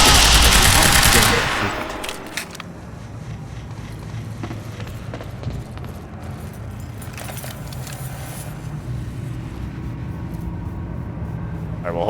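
Gunfire from the video game Quantum Break: a loud opening burst of shots, then a steady bed of game noise with scattered crackling pops and occasional bursts farther off.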